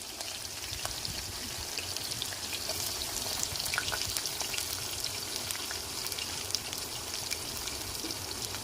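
Onions frying in hot oil for a cluster beans masala curry give a continuous soft sizzle and crackle with scattered pops, steady and close, with no voices.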